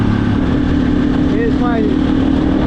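A KTM 350 EXC-F dirt bike engine idles in a steady, even low drone throughout, with a rider talking over it.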